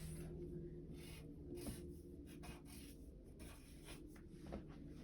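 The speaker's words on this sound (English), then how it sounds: "So let's go ahead and write the word yes." Soft scratchy strokes of writing the word yes in a math lesson, several short rubbing bursts, quiet and close against a faint steady hum.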